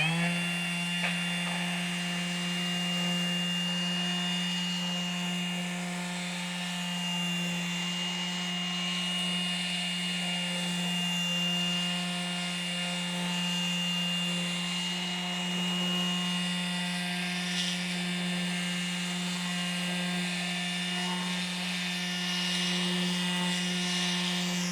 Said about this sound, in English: Make sure you start with the sander on the workpiece.